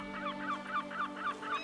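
Ravens calling in The Witcher 3: Blood and Wine, a run of about six rhythmic, nasal honking croaks in even succession, moderately loud over a steady low ambient hum.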